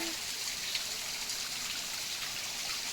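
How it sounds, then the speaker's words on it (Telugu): Water coming down from the hills pours through a pipe, a steady close rush and trickle of flowing water with no pauses. "ఈ వాటర్ అనేది పైన కొండల్లోంచి వచ్చి వేస్ట్ అవుతుంది కదా, దీనికి ఇలా పైప్ లైన్ వేయించారు"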